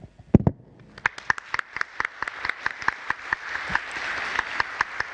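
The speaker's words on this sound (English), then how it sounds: "Let us give a round of warm applause to all of you." Audience applause for symposium panelists closing a panel discussion at an international symposium on tropical forests and sustainable industry. It starts as a few sharp, evenly spaced claps and thickens into steadier clapping toward the end.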